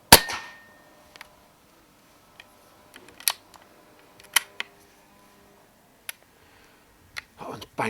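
An airgun shot strikes a rat at night, heard as a sharp close clack with scattered clicks and thumps around it, including another crisp impact partway through and a brief rustle near the end.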